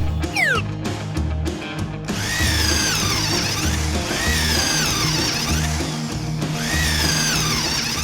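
A toy drill whirs loudly in sweeping, warbling bursts, starting with a few quick clicks before steady buzzing spins that rise and fall.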